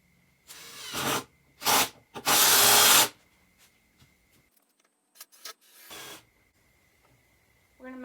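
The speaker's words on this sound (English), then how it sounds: "we're going to put in the rest of our screws." A power drill drives screws into pressure treated wood in several loud, close bursts of whirring, separated by quieter pauses with handling noises and a little talking.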